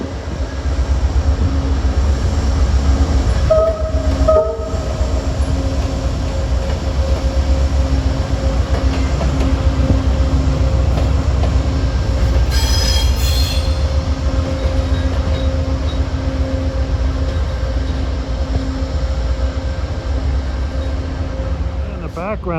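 An Amtrak P42 locomotive on the Heartland Flyer train rolls past with a loud, steady rumble of wheels on rail, with brief squeals and clanks partway through and a voice talking over it.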